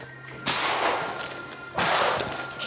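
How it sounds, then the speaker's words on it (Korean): Two sharp, loud bangs about a second apart, each followed by a burst of broadband noise, like gunshots ringing out in an open outdoor space, during a night-time wild boar hunt. "추격전 끝에 들리는 총성."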